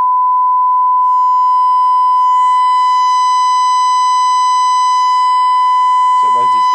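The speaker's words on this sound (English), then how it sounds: "So it goes into distortion at that point." Steady test tone played through an HMV Stereomaster 2401 stereo radiogram amplifier on the bench, a loud sustained pure pitch with harmonics building as it is driven toward distortion, followed by a brief burst of voice at the end.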